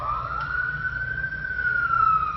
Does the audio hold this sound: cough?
no